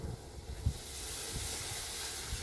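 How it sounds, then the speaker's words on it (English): Green beans sear on a Blackstone flat-top grill with a steady, close hiss of sizzling that runs throughout, plus a low rumble and a brief thump near the start. "Hear that nice sear?"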